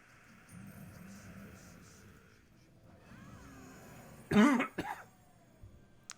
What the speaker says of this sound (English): Assuming my cough doesn't get worse.